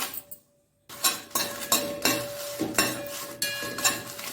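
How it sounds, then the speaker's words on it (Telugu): Dried red chillies stirred in a hot thick pot: a brief pause, then a rhythmic series of metal spoon scrapes and clinks against the pan over a faint sizzle, close and clear. "ఎండుమిర్చి ఒక నిమిషం పాటు ఇలా ఫ్రై చేసుకోవాలి"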